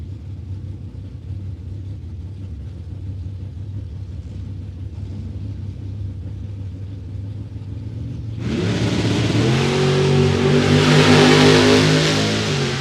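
A Camaro drag racing car at the World Super Pro Challenge idles with a low rumbling burble, then bursts into a loud revving launch that builds and holds strongly near the end.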